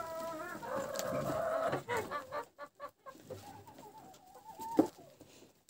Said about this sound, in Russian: это на втором этаже куры